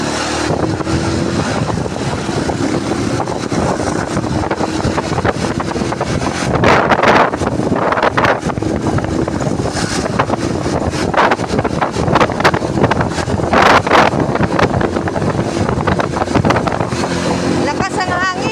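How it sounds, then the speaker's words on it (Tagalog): Strong wind buffets the microphone throughout a fast ride in a kulong-kulong on a bypass road, a loud constant roar mixed with engine and road noise, with voices partly buried underneath. "Lakas ang hangin. Mabilis yung aming kulong-kulong."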